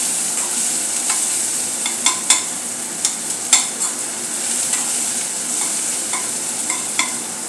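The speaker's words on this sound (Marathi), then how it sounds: "बारीक चॉप केलेला कांदा आहे तो घालून घेतलेला आहे. तोही हलकासा आपल्याला तळायचा आहे" Finely chopped onion frying lightly in a pan while being stirred, a steady soft sizzle with scattered spoon scrapes and taps over it.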